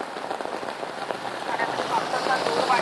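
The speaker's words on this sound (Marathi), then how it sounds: "दादर परिसरात सकाळपासून पाऊस सुरू झालाय" Heavy rain pours down in Dadar, Mumbai, a steady broadband hiss of drops striking surfaces that builds slightly toward the end.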